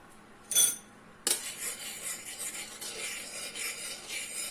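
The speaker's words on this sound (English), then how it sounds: "Stir just to distribute the sugar." Spoon stirring blueberries, sugar and milk in a pot, a quick clink then steady scraping and swirling strokes close by, with no talk.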